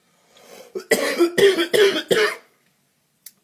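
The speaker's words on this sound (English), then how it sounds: "Sorry, I got a cough." A run of about five harsh coughs in quick succession, close and loud, then silence with a faint click at the end.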